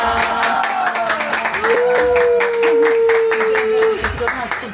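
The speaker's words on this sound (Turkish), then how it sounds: "Alkış. Alkış." Family members clap together in a quick, steady rhythm during a birthday song while on a family holiday. The claps sound close, and singing voices carry over them.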